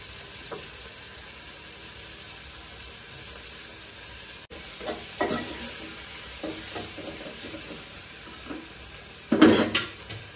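Tomatoes frying in a pan with turmeric and spices, a steady low sizzle under scattered scraping and stirring clinks, with a louder burst of hissing near the end.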